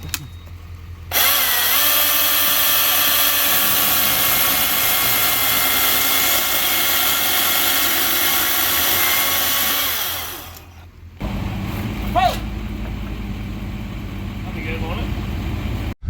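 Milwaukee M18 battery chainsaw cutting firewood: the motor starts abruptly and whines at a steady high pitch for about nine seconds before winding down, then quieter outdoor noise with a brief clatter follows.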